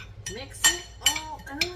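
Metal utensils clink against a dish as seasoned pork chop ingredients are mixed, a few sharp taps and scrapes spaced irregularly over soft background voice sounds.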